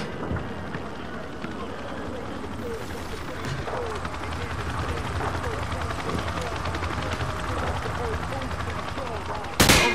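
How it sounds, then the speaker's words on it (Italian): Rapid gunfire at training targets in Call of Duty MW2 rattles steadily through the stretch under a busy game ambience, closing with a louder sharp burst near the end; voices can be heard faintly in the background. "Prendi l'arma sul tavolo e spara ai bersagli dietro di te."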